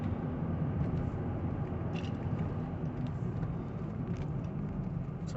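A Volvo 2.4 D5 diesel with a boost leak and wastegate actuator fault is held at full throttle, producing a steady, dense rumbling drone that neither rises nor changes for the whole stretch.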